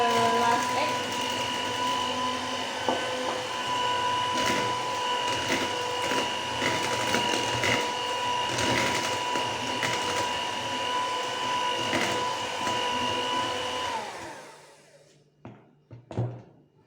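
An electric mixer beating butter cheesecake batter with eggs, a steady loud whirring drone with rattling for about fourteen seconds, then it stops and a few clunks follow.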